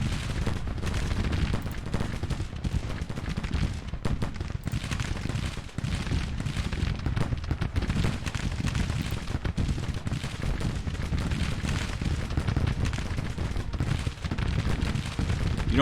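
Rifle fire pours onto Whipple's brigade in the Civil War strategy game Grand Tactician, a dense, continuous crackle of musketry and distant volleys rolling on for the whole stretch without pause.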